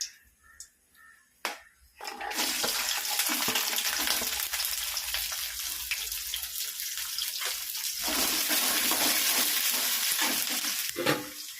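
Whole spices, cinnamon, cloves and cardamom, frying in a pan for a home-cooked crab curry, giving a steady, fairly loud sizzle and crackle that sets in after a few quiet knocks and keeps going to the end.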